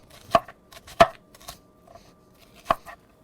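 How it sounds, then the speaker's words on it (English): A knife cuts a sweet onion into thin rings on a board, three sharp chops spaced apart with quieter taps and rustles between them, close and with no talking. "And then we're just gonna cut this into thin rings as well."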